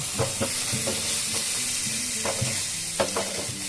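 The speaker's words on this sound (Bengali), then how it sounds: "এবার আমি এগুলোকে সব ভালো করে অন্তত 2 মিনিট মিডিয়াম ফ্লেমে কষিয়ে নেব" Cumin, coriander, turmeric and a pinch of sugar fry over a medium flame, under a constant hiss. Repeated spatula scrapes and knocks against the pan come in an uneven rhythm, close by, with no voices.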